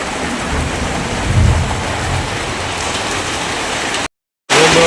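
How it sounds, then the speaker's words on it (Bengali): Heavy village downpour roars steadily with a low rumble of thunder swelling partway through, the rain loud and close before a brief cut and a short return. "ভীষণ বৃষ্টি"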